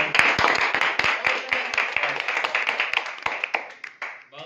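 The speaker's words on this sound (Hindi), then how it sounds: "वाह सर, तालियां।" Hands clapping in a small group after an electroscope physics demonstration, brisk close claps in an irregular run that thins out toward the end.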